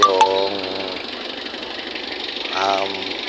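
A Mitsubishi L300 engine idles warm at operating temperature, a steady low mechanical hum with a light knocking rattle, while someone speaks over it near the start and again toward the end.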